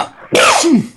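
A single loud, close sneeze bursts out suddenly with a sharp airy onset and a falling vocal tail, lasting about half a second.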